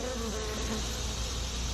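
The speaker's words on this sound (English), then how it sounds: "I'll shake the bees off back into the hive and just take those with me." Honey bees swarm at an open, established hive while a queen is installed in autumn, producing a steady, dense buzzing drone that fills the whole moment without pause. The buzzing is heard alone, with no talking.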